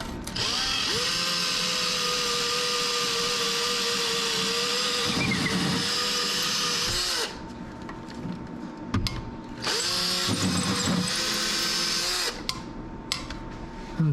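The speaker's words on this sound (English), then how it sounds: "First thing I'm going to do is drill a pilot hole." A power drill whines steadily while boring a pilot hole with a small bit during an under-cabinet light installation, close and fairly loud, running in long bursts separated by short pauses.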